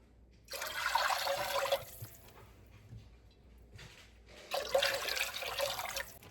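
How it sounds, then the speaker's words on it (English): Water poured in two separate bursts into a soup pot for homemade chicken tortilla soup, a loud splashing gush for about a second each, with a pause between. "So let's throw in 4 cups of water."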